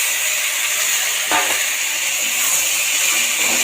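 Chopped tomatoes and garlic sizzle in a frying pan with a loud, steady hiss, broken by a brief stirring or scraping sound partway through.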